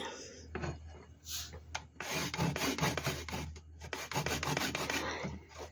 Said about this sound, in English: grate the ginger